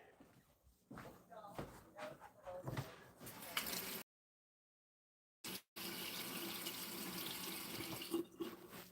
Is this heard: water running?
yes